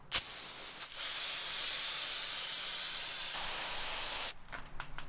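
Brake cleaner hisses from an aerosol can onto BMW brakes fitted with StopTech rotors and EBC pads, one sustained spray of several seconds bracketed by short bursts.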